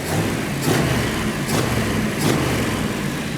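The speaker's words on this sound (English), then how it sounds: "So now with the engine running" A 1971 Plymouth 'Cuda 440-6 muscle car engine rumbles steadily up close, its low throb broken by periodic bursts of louder, rougher noise.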